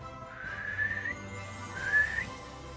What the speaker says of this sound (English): his team he gave a whistle